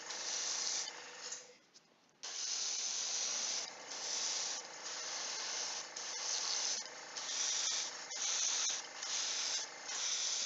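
Airbrush spraying paint onto a Ninja All-Stars miniature, slightly clogged, giving a steady close hiss that sputters and pulses in uneven bursts, with a brief pause early on.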